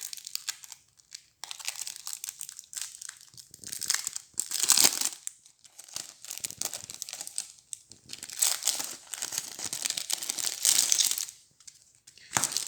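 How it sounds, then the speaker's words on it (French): A paper envelope holding God of War card game cards is torn and crinkled open up close, with bursts of crisp rustling and ripping separated by short pauses. "Donc on va ouvrir ça, son enveloppe."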